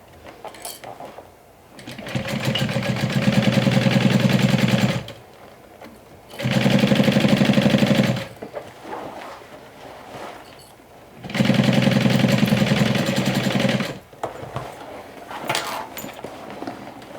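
A sewing machine stitches close to the fabric edge in three loud bursts of steady whirring and needle chatter, separated by pauses with quieter handling sounds.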